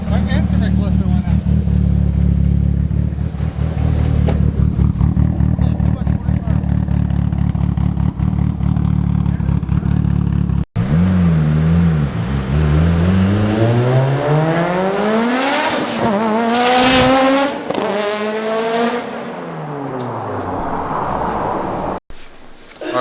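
A high-powered Mitsubishi Evo 8, making around 780 on a dyno, holds a loud, steady engine drone before climbing through a hard, rising rev run with repeated surges and dips, very close and unbroken.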